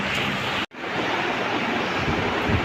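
Rain falls steadily outdoors as water drips from trees, a loud, dense, unbroken hiss with one brief dropout near the start.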